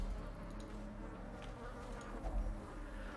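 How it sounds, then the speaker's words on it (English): Steady, dense buzzing of a thronging insect hive in the video game Darkest Dungeon, a continuous low drone with no breaks and no talking. "A thronging hive."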